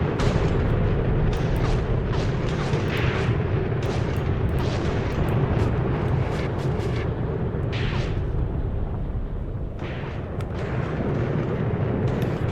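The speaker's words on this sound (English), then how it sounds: "So they finally did take a hit, but we are continuing this artillery barrage." Artillery barrage in a WW2 battle video game, dense continuous rumbling booms and overlapping blasts at a steady loud level, with sharper crackling bursts rising above the roar throughout.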